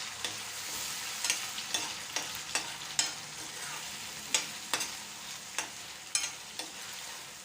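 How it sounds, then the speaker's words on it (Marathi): Ground chickpea masala paste stir-frying slowly in oil over low heat, a continuous sizzle broken by regular scraping strokes of the spoon, close and fairly quiet, no voices. "हे वाटण छान असं परतून घेऊया तेलामध्ये"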